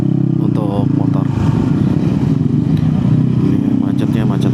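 A motorcycle on a touring ride from Pangalengan to Jakarta rolls through congested traffic, its steady mid-pitched engine drone continuous and close, with a voice talking over it.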